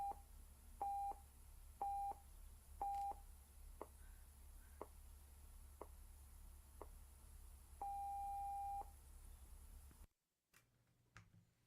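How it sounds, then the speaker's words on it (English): The National Research Council official time signal on CBC Radio 1 gives short beeps once a second, with some seconds skipped, then a long dash before it cuts to near silence. "National Research Council official time signal."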